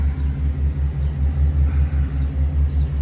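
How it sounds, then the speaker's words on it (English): A 1967 Mercury Cougar V8 rumbling at idle just after starting, with a loud, lumpy low-pitched beat pulsing in an even rhythm, close by and with no one talking. "we are going to fire it up and then drive it"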